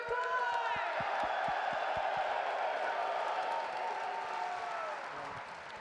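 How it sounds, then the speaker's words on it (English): A large Birmingham crowd at a Call of Duty League esports finals watch party cheers and applauds loudly, with dense sustained clapping, whoops and crowd roar, plus a voice over the PA, tapering slightly at the end. "Please, Birmingham, make some noise for Toronto Koi!"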